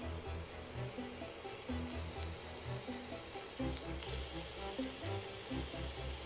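Chopped carrots and beans fry in a pan with a steady, soft sizzle throughout. A low, rhythmic pulsing of background music runs underneath.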